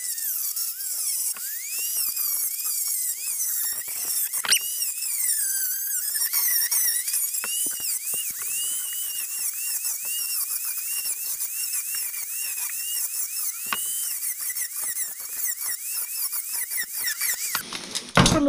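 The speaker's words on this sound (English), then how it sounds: "So I'm going to just lightly deburr this with my little Dremel." A small Dremel rotary tool fitted with a flap disc deburring metal edges; steady high-pitched whine that wavers as the disc loads against the metal, close and continuous for nearly the whole stretch, then stopping abruptly.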